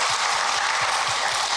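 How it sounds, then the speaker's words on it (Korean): Church congregation applauding during a worship service, a dense, steady wash of clapping that is close and fairly loud throughout, with no talking. "박수 한번 해주세요"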